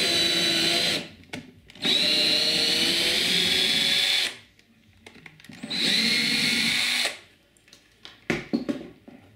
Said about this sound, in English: I'm going to use a M4 countersunk screw, but I'm going to tap the holes.